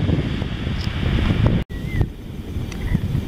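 Gusty wind on a beach at Emerald Isle, North Carolina buffets the microphone with a constant low roar and rushing hiss, briefly cutting out midway before resuming.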